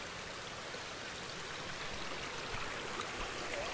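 A small feeder stream flows steadily into a lake in England's Lake District, a continuous bright burble and trickle of water close by with no voices.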